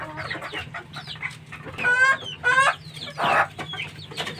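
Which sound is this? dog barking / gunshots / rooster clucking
rooster clucking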